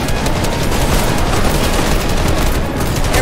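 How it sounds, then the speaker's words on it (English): Rapid, dense gunfire in a Fortnite match, loud and continuous bursts of automatic weapon fire layered with booms, with no talk over it. "Ow, I'm being shot at"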